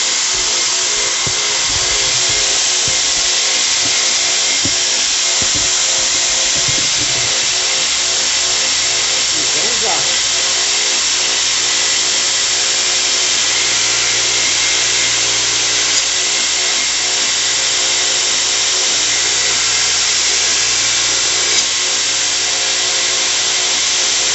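A knife blade being ground on a belt sander for a full flat grind with ricasso and finger-grip shaping, a loud, continuous abrasive whir and rasp that runs steadily throughout with small shifts in pitch as the steel is pressed against the belt.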